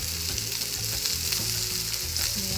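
Koi fish sizzle and fry steadily in a pan with onions and a little coriander, a continuous loud crackle close by with no talking.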